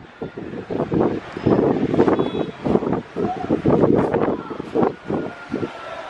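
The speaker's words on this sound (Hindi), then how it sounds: "देख रहे कितना हवा दे रहा है" Gusty wind buffets the microphone in rough bursts, rising and falling, with a voice talking over it.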